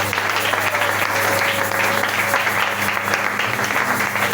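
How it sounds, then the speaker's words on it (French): A congregation at a pastor's ordination applauds for the Lord, dense, loud, steady clapping from a large crowd filling the space, with a sustained keyboard tone humming beneath. "Si on peut acclamer pour le Seigneur"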